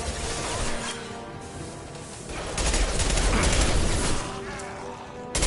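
Rapid gunfire and fusillade bursts from the video game Mass Effect 2, a continuous, fairly loud volley that intensifies midway, with some talk faintly mixed in.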